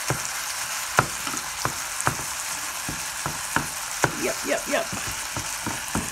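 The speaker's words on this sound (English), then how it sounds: "I'm frying down some hamburger meat." Ground meat sizzles steadily in a pan, with sharp clinks and scrapes of a utensil stirring at irregular intervals; one brief spoken word.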